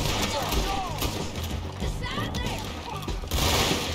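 Gunfire in the Red Dead video game crackles in a dense, continuous stream under game effects and excited talk, with a louder burst near the end.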